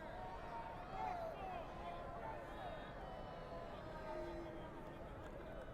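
A crowd murmurs and calls out in a gym during a tied state-title high school wrestling final, a steady distant roar of babble with scattered shouts rising and falling under a commentator's talk.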